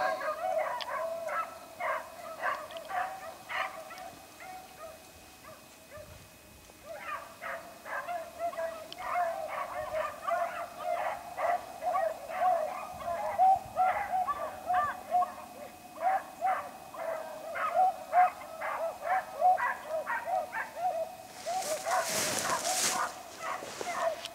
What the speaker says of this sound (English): Dogs are burning this one up.